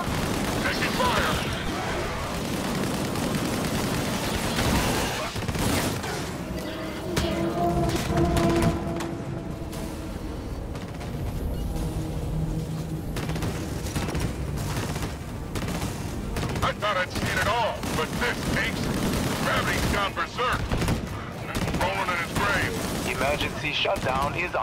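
Sci-fi combat in the video game Disintegration, with continuous rapid gunfire, bursts and heavy booms layered over music and in-game voices throughout.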